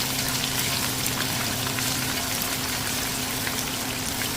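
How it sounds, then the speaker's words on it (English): Fish frying in a pan for an old-fashioned bekang dish, a steady dense sizzle and crackle running evenly throughout, close and continuous with no voices. "You have to fry the fish first"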